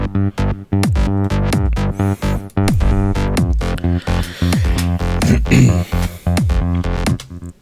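A Moog and software synthesizer trance bass line plays alone in short, punchy repeated notes with a steady rhythm and sliding, plucky attacks, loud and close.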